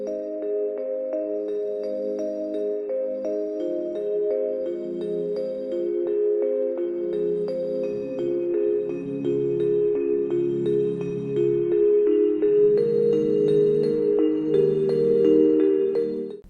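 A bright bell arpeggio from a song remix, a steady ripple of quick repeating high notes over sustained lower harmony, growing slightly louder toward the end, with no talking.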